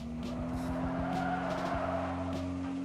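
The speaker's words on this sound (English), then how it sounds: "The car is working, it is driving." Car engine revving and tires skidding in the mobile driving game FlexicX, a rising and falling motor whine with repeated squealing slides, close and alone without talk.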